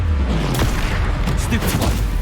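Incendio fire spell cast in Hogwarts Legacy, a short burst of booming, crackling flame over dense, continuous game combat noise with a low rumbling bed throughout.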